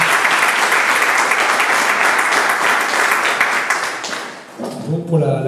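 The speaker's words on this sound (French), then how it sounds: "Je pense qu'on peut encore les applaudir pour l'événement qui organise." Audience applause fills a French talk-show inauguration event, dense and loud from the start, then tapering off as a voice begins speaking near the end.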